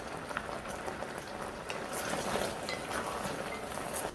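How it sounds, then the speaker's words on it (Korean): Small potatoes simmer and reduce in braising liquid over medium-low heat, giving a steady bubbling, crackling wash with scattered pops, close and moderately loud, with no talking. "중약불로 줄여서 한 25분 정도 이렇게 더 졸여주시는데"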